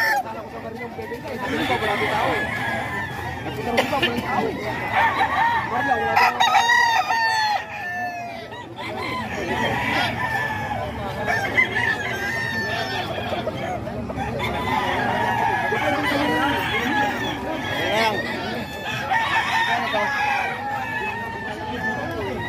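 Fighting cocks crow repeatedly in a busy cockfighting-market setting in Tondo, loud and close, overlapping with steady clucking and a background of crowd noise and people talking.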